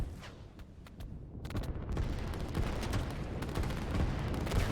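Artillery fire in a strategy video game, a rapid stream of distant gunshots and muffled booms that grows denser and louder, with overlapping bursts throughout.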